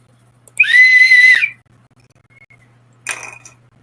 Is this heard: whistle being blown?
yes